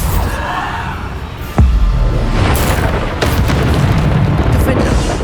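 A Bombarda spell from Hogwarts Legacy detonates in a sudden low boom that leaves a sustained, roaring rumble. Scattered crackles sit over the top and a voice calls out faintly earlier, before the blast.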